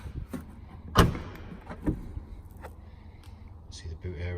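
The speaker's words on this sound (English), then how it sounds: "We pop the boot." A Ford Mustang's boot pops open with a sharp thud near the start of the sequence, followed by a softer second clunk and faint mechanical rattles, with a voice talking around it.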